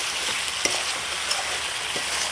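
Chicken scraps sizzle steadily in a hot pan as the meat starts releasing its water, with a few soft scrapes and knocks of stirring rising above the constant close frying hiss.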